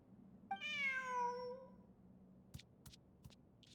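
A cat in a video game gives one clear, drawn-out meow, close and distinct, followed by a few soft clicks in an otherwise quiet scene.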